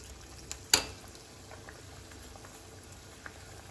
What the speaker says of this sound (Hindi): फ्लेम हमने मीडियम रखी हुई है और इसको अच्छे से फ्राई कर लेंगे।